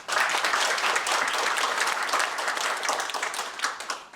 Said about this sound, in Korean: 여러분의 큰 박수와 함께 시작하겠습니다